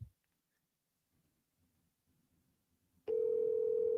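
Faint scratchy handling noises, then a loud steady phone tone begins abruptly and holds to the end, a single outgoing call signal near the listener.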